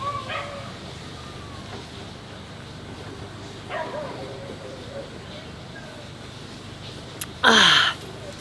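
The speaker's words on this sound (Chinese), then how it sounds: "狗狗，你们在吵架吗？" Dogs at a winter mountain campsite give faint, scattered yips and whimpers against a quiet background, ending with one brief, louder bark.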